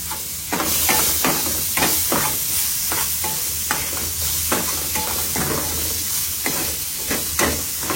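Garlic, onion and dried chili fry in a pan, a close, constant sizzle broken by regular scraping strokes of a spatula stirring them about.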